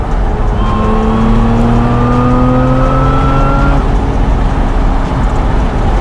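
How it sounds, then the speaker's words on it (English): A Lotus Emira sports car engine revs hard and climbs steadily in pitch for a few seconds, loud and close, then drops back to a rumbling idle. "she sounds like a race car when you accelerate hard"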